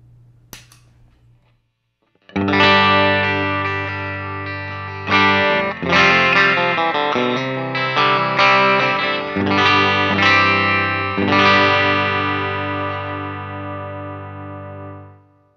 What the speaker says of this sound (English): Here's the Timmy set to a very transparent clean boost.